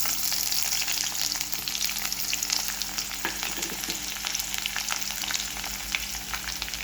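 Onions frying in a pan for upma crackle and sizzle in a continuous, busy bed of sound, with occasional stirring scrapes and no voice over it.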